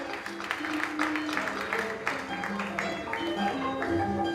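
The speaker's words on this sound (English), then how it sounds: "Let's applaud and appreciate the minister for what is happening." Audience applauding the minister at an arts and culture festival in Uganda, a continuous broad clapping wash with background tones throughout.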